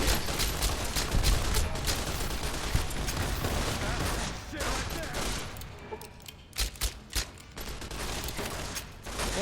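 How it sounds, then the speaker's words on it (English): Rapid video-game gunfire from Fallout: New Vegas crackles in dense volleys throughout, with a few sharper isolated shots near the end, under occasional talk. "I'm just gonna fucking shoot you guys"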